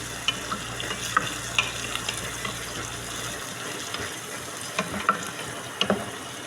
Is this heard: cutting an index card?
no